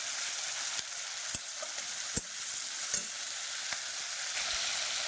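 Garlic, tomato and green chili fry in a pan with a steady, loud sizzle, broken by a few sharp scrapes and knocks of a spoon stirring against the metal.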